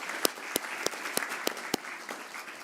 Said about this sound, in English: give them their applause.